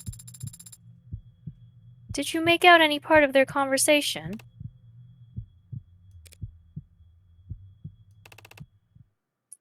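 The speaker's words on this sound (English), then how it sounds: "A heartbeat." In a crime-mystery video game, a low, steady heartbeat thumps at a regular pulse through the scene, continuing under a short spoken line and carrying on alone afterward until it fades out.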